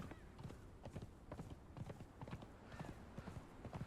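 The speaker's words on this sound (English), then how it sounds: "Why do I keep getting kicked off the horse?" Horse hooves clip-clop in a quick, steady galloping rhythm in the video game Conan Exiles on the Isle of Siptah, close and fairly loud, with no talk over them.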